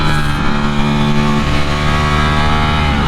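A Ducati Streetfighter V4 motorcycle engine roars loud and close, revving hard and steady as it accelerates for a wheelie downhill, a dense rich growl throughout with no talk.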